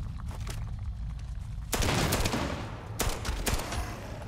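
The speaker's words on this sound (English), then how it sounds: "Oh, what was that explosion?" Gunfire and explosions in the video game Starfield: after a quieter start, a sudden loud burst of rapid shots and blasts sets off a dense barrage, and more sharp bangs follow.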